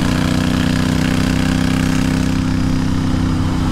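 A Royal Enfield Interceptor 650 motorcycle fitted with a new aftermarket exhaust, its engine running with a loud, steady, deep throb close by and no voices.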